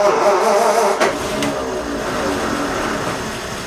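A classic car that has not run for a while keeps running after a couple of throttle prods, a steady close engine rumble with a brief blip near the start.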